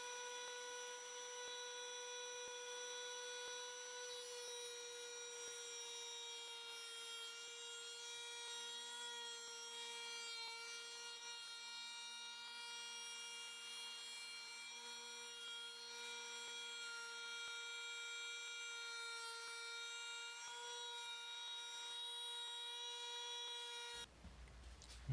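A router with a flush trim bit cuts wood for a shoe rack. It gives a steady, loud, high-pitched motor whine that holds for over twenty seconds, then cuts off abruptly.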